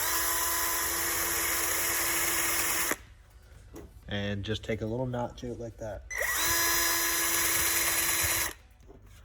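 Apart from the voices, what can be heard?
slow speed drill with reamer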